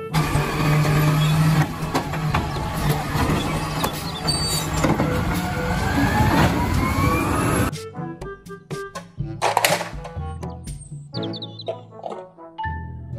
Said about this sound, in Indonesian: Mobil truk pengangkut